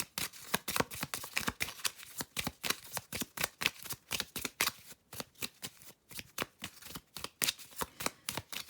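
Tarot cards being shuffled for a reading, with a rapid run of crisp riffling flicks and soft slaps heard up close. The rhythm is uneven and continues alone for several seconds with no voices.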